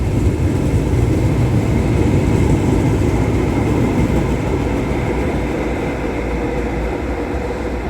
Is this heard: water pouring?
no